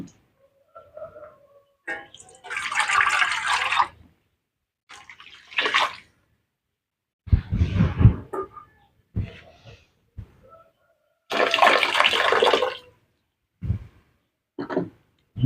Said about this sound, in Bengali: আরও জল দিচ্ছি আমি